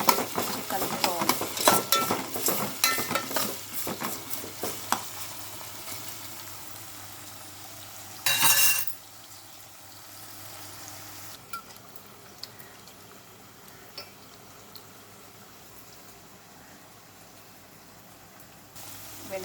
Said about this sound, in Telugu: బెండకాయ, టమాటా వేగింది ఫ్రెండ్స్.